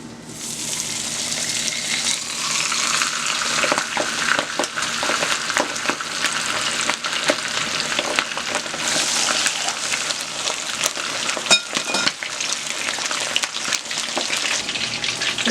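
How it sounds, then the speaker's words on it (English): A batch of fish fries in oil in a pot, a dense, continuous sizzle with bursts of popping and crackling, heard alone and close up. "If you hear that noise, it's my fish that's frying."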